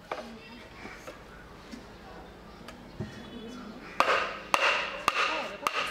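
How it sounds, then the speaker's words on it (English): A chisel cutting incisions along the length of a bamboo stem being flattened to make water storage tanks: scattered light taps early on, then a run of sharper, louder wooden strikes spaced about half a second apart, heard up close. "you begin to make insertions along the length of the bamboo comb using your chisel"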